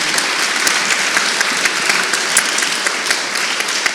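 Audience applause at an armistice commemoration, a dense, loud, sustained wash of many hands clapping at a steady level, with no speech over it.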